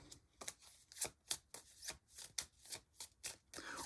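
A deck of game cards is shuffled during a deckbuilding board game, giving a run of about ten crisp riffling bursts in a steady rhythm, close and fairly quiet, with no talking.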